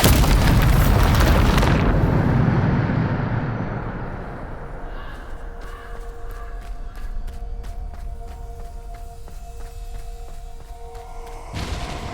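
A Bombarda spell detonates in Hogwarts Legacy with a loud, booming explosion that rolls and slowly fades over several seconds, leaving light debris clicks and ticking before another burst of noise at the very end.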